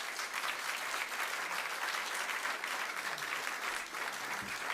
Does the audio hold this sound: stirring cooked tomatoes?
no